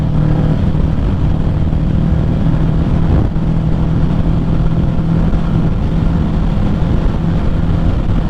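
A Kawasaki Ninja 650 being ridden in cold weather on the way toward 60 mph, its engine a steady, loud, continuous drone with strong low rumble and wind roar throughout, no voices.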